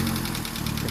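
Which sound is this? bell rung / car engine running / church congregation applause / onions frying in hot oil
car engine running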